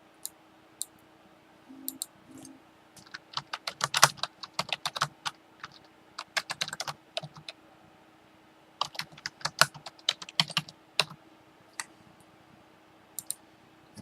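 Computer keyboard being typed on in irregular bursts of sharp, close key clicks, with quiet gaps between runs and no talking.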